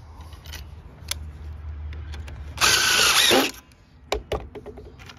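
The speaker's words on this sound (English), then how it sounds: "Take the impact driver." An impact driver sinks a Camo Pro hidden deck fastener into a deck board, a loud burst of whirring and rapid hammering lasting under a second, framed by quieter clicks, handling knocks and a low outdoor rumble.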